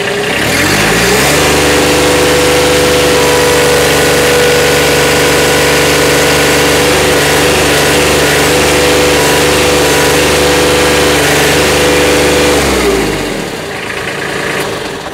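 Kubota B26 compact tractor diesel engine running at full RPM, a loud steady drone with strong harmonic hum from about one second in, easing off near the end; no talking.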